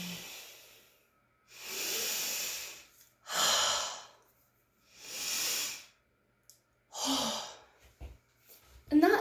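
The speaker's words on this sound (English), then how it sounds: "I need to open up the window and take 3 deep breaths of air" A storyteller takes several deep breaths in the open air, each a long, breathy inhale or exhale, spaced a second or two apart and heard up close with no words between them.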